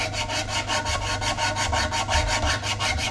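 Coarse 60 grit sandpaper rubs against a spinning beech yarn bowl on a lathe, a loud, even scratchy hiss pulsing in quick regular strokes throughout.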